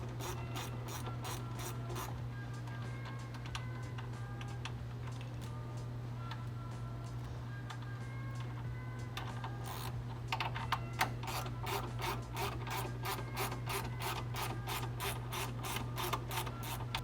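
A ratchet on a 13mm bolt of a 2018-or-later Ford F150 cold air intake clicks in rapid, even bursts, close and clear, with denser and louder ratcheting in the second half.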